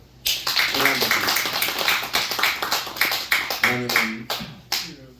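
A church congregation's clapping breaks out suddenly and continues in uneven bursts for several seconds, fairly close, with a few voices mixed in.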